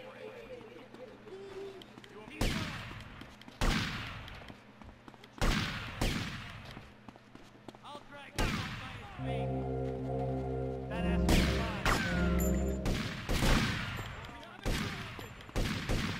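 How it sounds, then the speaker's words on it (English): Police gunfire in the video game GTA Vice City: sharp, loud volleys of shots burst out every second or two, with a stretch of sustained rapid fire midway, under a player's excited talking. "Why won't they stop the cops from shooting?"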